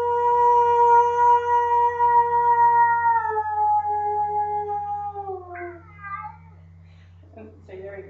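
A house cat meows in a long, drawn-out call that bends downward at the end, followed by a couple of shorter, quieter mews, heard close and alone over a steady low hum.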